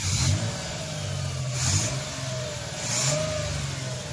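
A Toyota 4Runner engine, running on fuel vapor, revs twice as the gas pedal is pressed, rising and falling over a steady idle rumble, close by with no talking.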